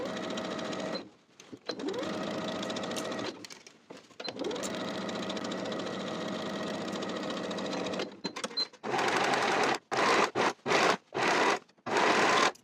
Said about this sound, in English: we'll sew the crotch seam with a 1/2 inch seam allowance and finish the raw edges